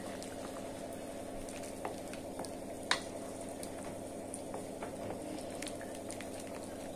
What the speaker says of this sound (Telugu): మూత పెట్టుకుని ఉడికించుకోవాలి.